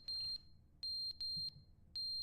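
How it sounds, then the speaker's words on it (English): Piercing electronic alarm beeps from The Stanley Parable video game, sounding in short repeated bursts with brief gaps, loud and close against a quiet low rumble. "That beeping is really They didn't annoying."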